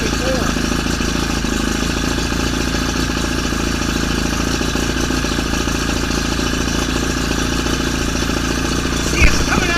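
A 1966 Evinrude 33HP Ski Twin two-stroke outboard on a 1967 Starcraft fishing boat runs steadily at idle throughout, a constant close engine drone with a brief knock near the end and some talk in the background.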